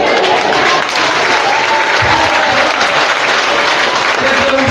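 A church congregation claps loudly and continuously, a dense, sustained burst of applause filling the hall, close and unbroken, with faint voices mixed beneath.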